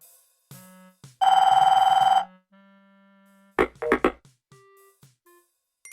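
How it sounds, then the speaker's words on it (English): A telephone in the 1993 Sierra On-Line PC game Police Quest IV: Open Season gives one loud synthesized ring burst. Sparse game sound effects and clicks come before it and a few knocks and thuds follow. "Junior, your phone's ringing."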